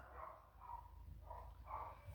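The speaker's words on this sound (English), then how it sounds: "There go the dogs." Dogs bark faintly in the distance, a few muffled barks repeating over a low background rumble.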